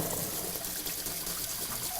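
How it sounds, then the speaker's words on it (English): Tap water runs steadily from a kitchen faucet while hands are washed, a continuous close splashing trickle with no pauses. "Just gonna wash my hands."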